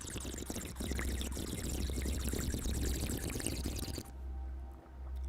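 A man's mouth forcing air through water held between his lips, imitating the bubbling of a bong being smoked; a steady wet bubbling rush that runs loud for about four seconds, then stops abruptly, with a low hum continuing beneath.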